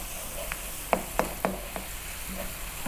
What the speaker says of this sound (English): Just want to cook this paste out a little bit.